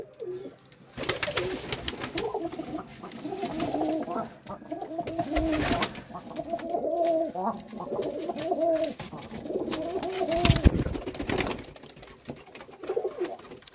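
Pigeons, including local desi birds, coo steadily inside a small pigeon coop on a farm, with overlapping soft, throaty calls close by and occasional wing flutters or knocks.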